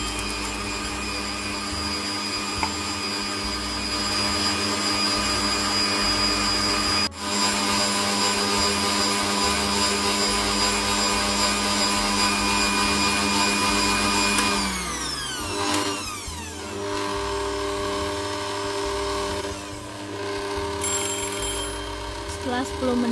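A steady electric mixer drones loudly while beating steamed coconut sponge cake batter, holding a constant whine that shifts pitch partway through, with no talking over it.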